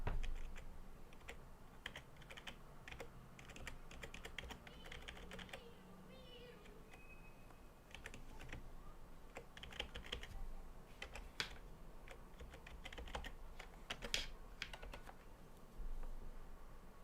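Steady computer keyboard typing with rapid, irregular keystrokes throughout, fairly close and moderately loud, with no voices.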